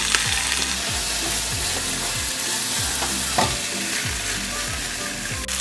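Pork and onion stir-frying in a pan for Japanese ginger pork shougayaki, with a loud continuous sizzle and a regular rhythm of scraping, tossing strokes roughly every half second, close up and with no voices.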